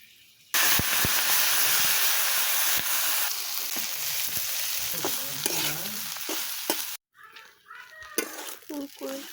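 Hilsa fish roe frying in a pan in a village kitchen: a loud, dense sizzle and hiss that rises abruptly, runs steadily, then cuts off and turns to sparser spitting and crackling, with a brief voice near the end.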